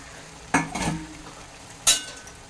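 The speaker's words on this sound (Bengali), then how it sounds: "এবার এটাকে, মাথার টুকরোগুলোকে আমি ভালো করে মিশিয়ে দিচ্ছি নেড়ে চেড়ে" A spoon scrapes and stirs fried aar fish head pieces with spices in a pan, giving two or three short, fairly close clatters with a soft sizzle between them.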